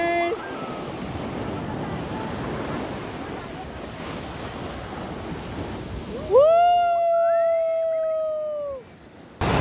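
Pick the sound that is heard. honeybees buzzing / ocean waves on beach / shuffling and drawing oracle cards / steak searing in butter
ocean waves on beach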